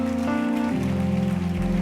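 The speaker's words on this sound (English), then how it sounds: "Begin to clap your hands and you pray for them." Many hands clap together in a church service during prayer, a thick rain-like patter beneath held keyboard chords, loud and continuous without speech.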